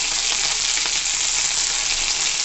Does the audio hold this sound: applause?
no